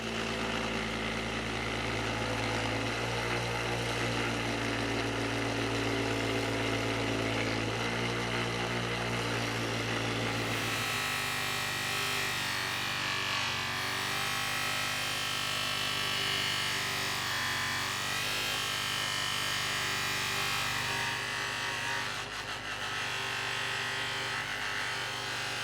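Bench grinder with a fiber wheel cleaning rust from a 1940s Craftsman lathe chisel set, a loud continuous motor whine and abrasive hiss whose pitch shifts as steel is pressed against the wheel.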